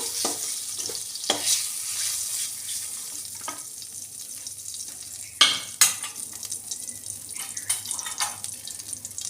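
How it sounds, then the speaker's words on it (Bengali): Hilsa fish frying in oil makes a soft, continuous hiss with scattered sharper crackles and a few louder spatters as the pieces are turned in the pan. "মাছটা দিয়ে ভাজবো না তাহলে এদিক সেদিক করে নেব"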